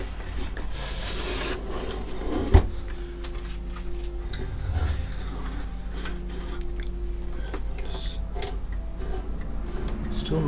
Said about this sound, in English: Still making not grinding noises, but a bit of a scrape. That might be the cursor itself